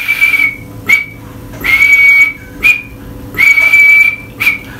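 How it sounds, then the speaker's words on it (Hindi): Alarm blasts on a field signal whistle sound as a shrill, loud pattern of one long blast and one short blast, repeated three times with brief pauses between. "खतरे का जब संकेत देना हो तो एक लंबी और एक छोटी सीटी"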